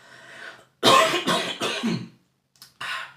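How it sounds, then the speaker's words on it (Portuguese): A man coughs during a chess commentary: a faint throat rasp, then a cluster of three or four loud, harsh coughs in quick succession, a pause, and two more coughs close to the mic. "Deixa eu tossir."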